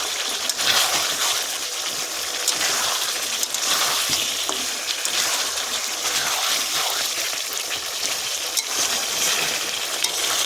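Fried potatoes tipped into a pan of coriander chicken set off a loud, continuous crackling sizzle with a rushing hiss, steady throughout and close.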